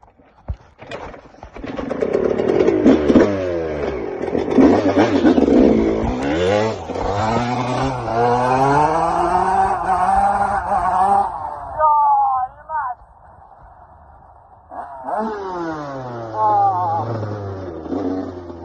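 A restored 1999 Yamaha YZ144 two-stroke motocross bike rips along at night, its engine revving hard and climbing through gears, briefly easing off near the end before winding up again, close to the mic with some talk over it.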